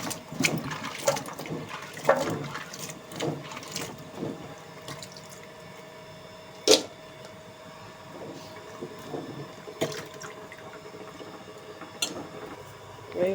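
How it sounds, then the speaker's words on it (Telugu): Cluster beans are washed in a vessel of water by hand, with irregular close sloshing, splashes and clinks at uneven intervals and no talking. "ముందుగా ఇవి గోరుచిక్కుడుకాయ నీళ్ళల్లో వేసి కడిగేసుకుంటాను."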